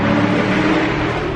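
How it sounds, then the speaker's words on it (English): Steady, loud engine intake roar from a car fitted with a K&N cold air intake, passing through an underpass, with a dense broadband rush running continuously and no one talking. "I definitely heard a lot more like induction noise"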